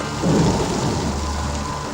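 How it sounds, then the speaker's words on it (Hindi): A thunderstorm rumbles and rain pours steadily outside a bedroom window, with a low roll of thunder near the start and continuous hiss of rainfall throughout. "खिड़की से आने वाले तूफान का शोर"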